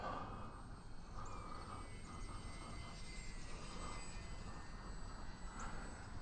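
A radio-controlled model plane engine drones steadily overhead, a continuous faint buzzing whine from a distance with wind rumble, no talk.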